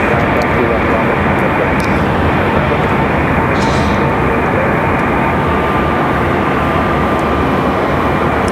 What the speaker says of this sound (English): For our FedEx ATR coming in from Wilmington.